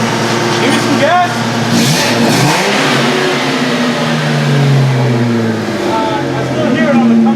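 A car fitted with a new Megan catback exhaust revs up close by, the engine note rising and falling loudly while voices talk nearby.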